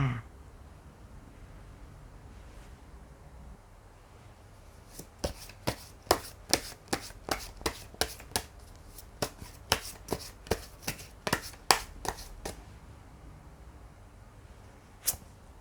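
Tarot cards are shuffled and flicked in a quick run of sharp, crisp snaps. The snaps come in bursts through the middle stretch after a quiet start, and one last isolated flick follows.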